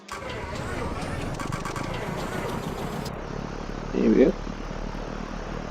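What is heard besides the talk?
Alabeo M20R Ovation engine starting, X-Plane 11 video game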